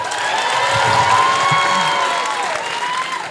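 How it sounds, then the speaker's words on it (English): Audience applause and cheering fill a comedy show venue in a steady, dense wash of clapping that holds loud for several seconds, with no talk over it. "Round of applause."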